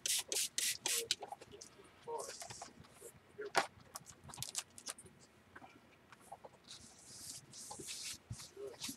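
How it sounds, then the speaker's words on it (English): A spray bottle mists a paper page in short, repeated hissing squirts, several quick bursts at first and more later, mixed with soft rubbing and handling noises, close and fairly quiet. "Spray your page a little bit."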